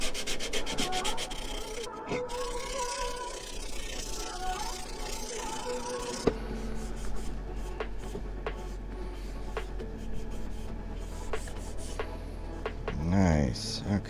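Steady rubbing of sandpaper over the pins of a walnut dovetail box, a continuous close scratchy sanding with brief pauses, ending in a short whirring sound.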